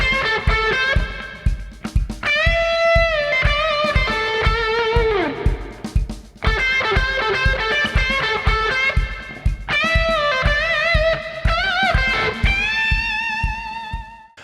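The first guitar solo section of a rock song plays as a distorted electric guitar with bending, sustained notes over steady, punchy drums, loud and continuous with brief breaks between phrases.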